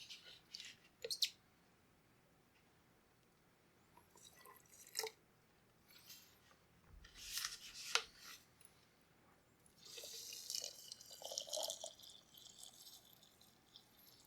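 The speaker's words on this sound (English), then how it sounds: "And now we're going to add more water." Water is poured into a pot over herbs, ginger and elderberries for brewing, heard as faint, quiet trickling with scattered drips and a short steadier pour near the end.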